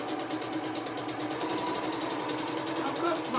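A sewing machine stitches freezer paper quilt blocks at a very short, tight 1.9 mm stitch length, giving a steady, close mechanical whir with a fast, even pulse throughout.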